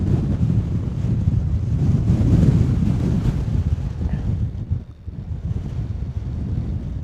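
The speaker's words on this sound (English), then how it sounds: "it's not a gale force or anything like that, but it has been quite blustery" Blustery wind on Dartmoor buffets the microphone in a steady, loud roar that swells and eases without a break, with no other clear sounds above it.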